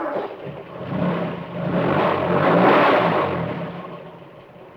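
A fire truck drives off, its engine rumbling and revving in slow waves that build to a peak and then ease away, medium-close with no voices.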